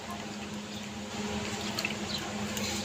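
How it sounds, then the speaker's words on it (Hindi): Fresh homemade mozzarella cheese dipped into cold water, giving a steady close wash of sloshing and dripping water throughout, with no talking. "तो अब मैं फिर दोबारा ठंडे पानी में इसे डिप कर दूँगी।"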